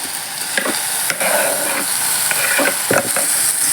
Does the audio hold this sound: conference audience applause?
no